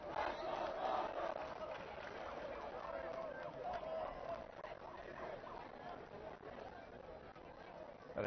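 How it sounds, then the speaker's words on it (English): A homecoming-night football crowd at Kelleher stadium, Marlborough against Fitchburg, makes a steady murmur of chatter and distant cheering across the whole stretch, with voices blending into a continuous background wash. "Got a decent little crowd here tonight at Kelleher on homecoming night."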